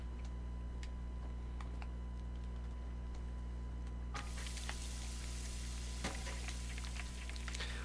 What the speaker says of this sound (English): I've got two bits of shark meat that I'm now gonna cook